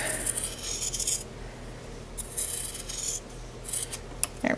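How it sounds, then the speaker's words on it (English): Scissors trimming sewn fabric a quarter inch from a traced seam line on a small penguin plush wing, giving close, quiet rasping snips in uneven bursts with brief pauses, and no talking. "You'll want to trim, leaving about a quarter of an inch around the line that you traced"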